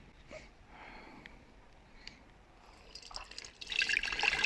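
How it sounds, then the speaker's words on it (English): Rose blossom tea is strained into a jar: faint drips and soft liquid trickles come first, then a louder, steady splashing pour builds toward the end. "So all I have to do is strain that tea into the jar."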